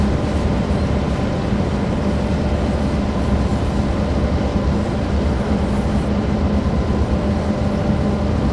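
A train in Train Sim World 2 labouring up a steep gradient with too little power, a steady loud low rumble and drone that holds throughout with no talking.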